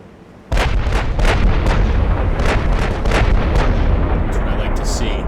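Battleship main guns firing a volley in the naval game Ultimate Admiral: Dreadnoughts, Bismarck in action: a dense sequence of heavy booming shots overlapping under a continuous low rumble, loud and close, with no talk.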